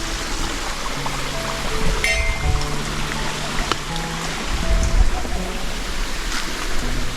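A mountain spring streams downhill beside a temple called Maruti's thumb on Jarandeshwar Mountain, giving a steady, close broadband rush with scattered tonal sounds over it.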